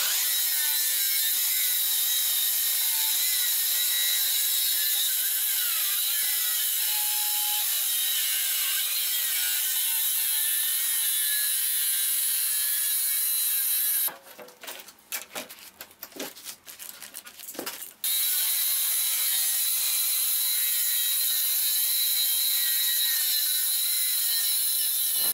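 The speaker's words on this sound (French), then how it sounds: "je vais découper ma poutre en deux dans le sens de la longueur" Long, steady rasping of a saw ripping a wooden beam lengthwise, a continuous close grinding drone with a brief interruption partway through, then the cut resumes at full strength.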